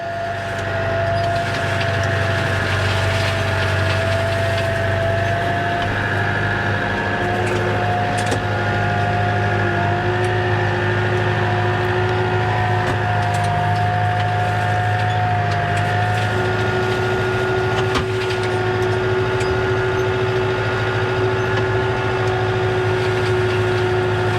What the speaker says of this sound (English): my little hedge trimmer does not spin round on the back, so I have to do the corners the hard way